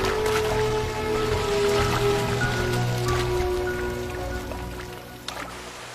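Rain falling on the Atlantic Forest, a dense patter of drops and trickling water with scattered louder splashes, steady and close, slowly easing toward the end.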